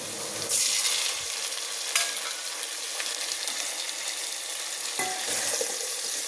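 Sliced onions frying in a pan for bagara rice, a continuous close sizzle with a few spoon knocks and stirring scrapes breaking through.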